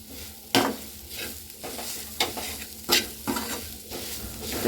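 A salted, crunchy winter snack mixture sizzles in a pan as it is stirred, with a continuous frying hiss and repeated scraping sweeps of a spoon against the pan.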